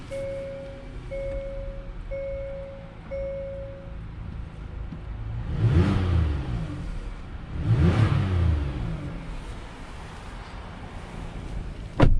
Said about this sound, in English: let's go ahead and take this 2021 Palisade on a test drive and see how it does